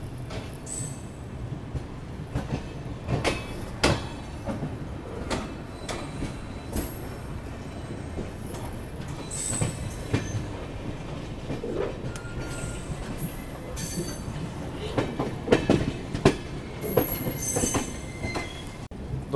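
A Duronto Express train rolls along after leaving Jolarpettai Junction, heard from inside the coach as a continuous rumble with repeated wheel clicks, rattles and brief squeals over the rails.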